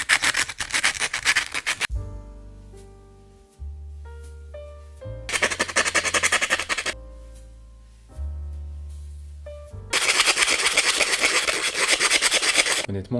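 An oxidised 10 centime coin scrubbed hard to clean it, giving rapid rasping bursts of rubbing in three separate spells, with quieter pauses between them.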